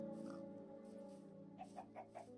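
A chicken in a survival video game clucks in a quick series of short calls over a steady low hum of game background sound.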